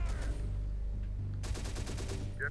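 Rapid automatic gunfire in the video game Terminator: Dark Fate – Defiance, a steady burst of fast repeating shots over a low rumbling battlefield drone.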